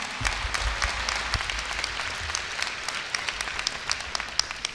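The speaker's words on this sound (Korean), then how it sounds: "큰 박수로 맞이해 주시기 바랍니다." Steady applause from a large audience at a Korea University freshman entrance ceremony, a dense, even wash of clapping that holds throughout without a break.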